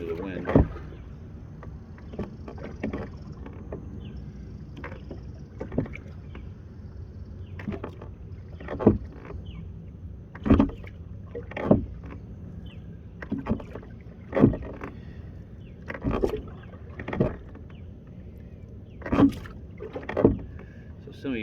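A rowboat is rowed on open water with slow, even strokes, each a soft splash and knock coming roughly every one to one and a half seconds against a low background of wind.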